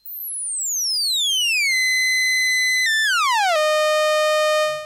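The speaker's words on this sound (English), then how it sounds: "Sweep the frequency down." An ARP Odyssey synthesizer oscillator glides steadily downward in pitch, settles, then drops again to a lower steady buzzy note, loud and continuous with no talking.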